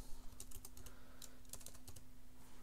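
Computer keyboard typing at a terminal, a faint burst of quick irregular key clicks over a low steady hum, heard alone without any voice.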